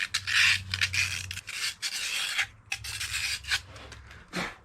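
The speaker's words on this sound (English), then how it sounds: "Maybe I'll take some Scotch-Brite. Or just, 50 grit sandpaper." Coarse sandpaper rasps over a crusty part from a 1975 Briggs and Stratton 8 hp engine in quick, repeated scrubbing strokes, close and fairly loud, with a low steady hum running beneath for most of the stretch.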